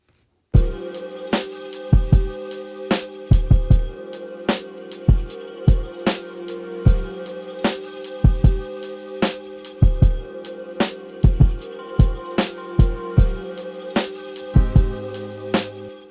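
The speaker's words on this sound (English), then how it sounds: "I have a lot of Keyscape one-shot samples that I've gotten." Separate Keyscape keyboard one-shot notes, bell-like and piano-like hits, struck one after another with ringing sustained tones and short gaps between them.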